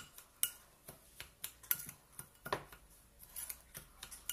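Crushed speculoos biscuits being mixed with butter in a bowl, giving a run of soft scraping and clinking strokes at an uneven pace, close and fairly quiet.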